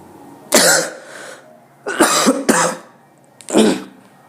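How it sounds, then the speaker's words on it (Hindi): Four harsh coughs, close and loud, the middle ones coming as a quick double, separated by short silences. "थोड़ा बहुत तबीयत खराब है, खांसी आ रहा है"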